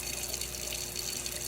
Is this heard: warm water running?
yes